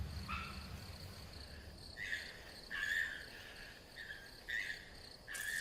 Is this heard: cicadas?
yes